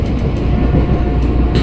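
A Tokyo Metro 6020 KRL commuter train on the Cikarang line rumbles steadily along the rails, heard from inside the car with a continuous low roar and faint rhythmic clicks.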